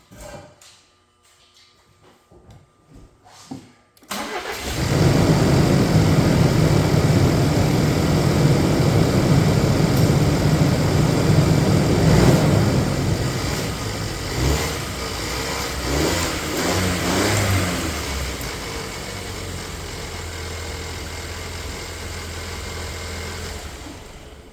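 A 2019 Ford Ranger engine cranks and catches after a few seconds of near silence, then settles into a steady, loud, close idle that continues with slight variations in tone.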